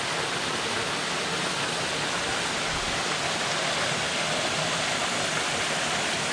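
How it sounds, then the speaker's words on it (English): Cascade Waterfall in Portland, Jamaica, pours in a steady, dense broadband roar of rushing water, close and continuous throughout with no voices. "this is the Cascade Waterfall"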